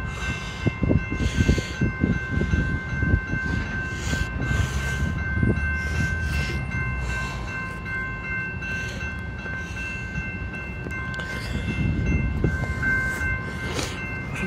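A BNSF train passes a level crossing with a continuous rumble and rattle of railcars, steady tonal ringing from the crossing signal above it, and heavier thumps swelling near the start and again toward the end.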